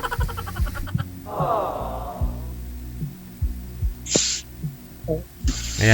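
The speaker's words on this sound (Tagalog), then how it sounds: "Maingay po kasi yung electric fan." A noisy electric fan runs with a steady low motor hum beneath a call-in radio broadcast, while other intermittent sounds come and go over it.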